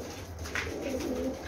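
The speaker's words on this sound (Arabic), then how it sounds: "شباب عندنا طيور" Pigeons give soft, low rolling coos close by, a few overlapping phrases over a steady background hum, with no talk.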